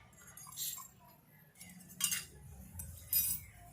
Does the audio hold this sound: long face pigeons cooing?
no